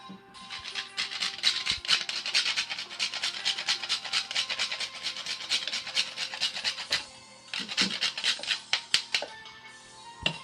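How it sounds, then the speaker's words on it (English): Nutmeg grated by hand for a sea moss smoothie makes close, quick raspy scraping strokes in rapid bursts, with a short pause before a final run of strokes. "you must grate in some nutmeg"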